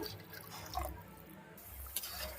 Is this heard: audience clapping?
no